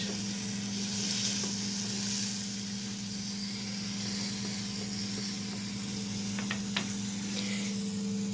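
Gözleme frying in a pan gives a steady, close sizzle that holds at an even level throughout, with a few faint clicks near the end and no voices.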